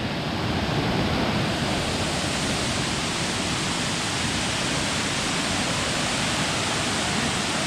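Ura Watuna waterfall in the Sinharaja rainforest roars as a dense, steady rush of falling water, loud and unbroken for the whole stretch with no voices.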